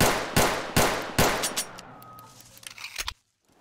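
Gunfire in a Ukrainian shooter video game: three loud evenly spaced shots followed by lighter rapid rattling, a final sharp burst, then sudden silence.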